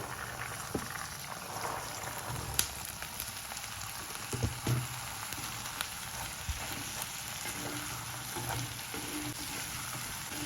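Sprouted green peas fry steadily in oil with turmeric, a continuous soft sizzle with occasional stirring clicks and scrapes, heard close and fairly quiet with no talking.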